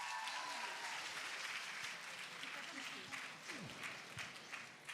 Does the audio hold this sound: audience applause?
yes